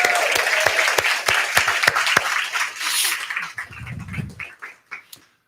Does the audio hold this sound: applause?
yes